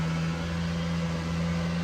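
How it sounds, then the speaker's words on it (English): String trimmer running in a garden, a steady buzzing hum with a strong low drone, heard alone and at even loudness. "Unfortunately today there's somebody weed whacking as well."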